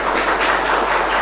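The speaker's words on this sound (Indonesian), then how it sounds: "tepuk tangan buat kalian ya" A class of students gives a short burst of steady clapping in a classroom after singing together, dense and close with no voices over it.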